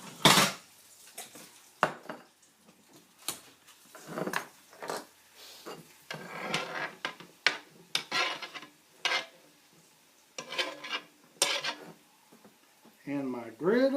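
Cutlery and kitchen utensils clink and scrape against dishes as tacos are moved onto a plate, sharp scattered knocks and rasps near and distinct, with someone talking at the end.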